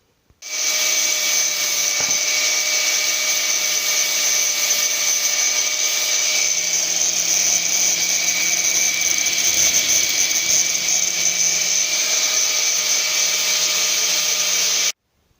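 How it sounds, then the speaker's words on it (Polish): An angle grinder smooths flat the cut-off stubs of the turn signal brackets on a Yamaha DT 125, producing a steady, close, high-pitched whine that runs unbroken for about fourteen seconds with no talking. "Odcięte teraz ładnie wyszlifować na równo."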